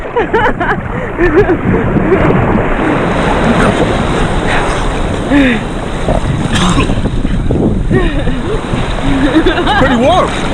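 Pacific Ocean surf off a Hawaiian beach, waves washing and splashing steadily up close with wind buffeting the microphone, while people talk and call out over the water.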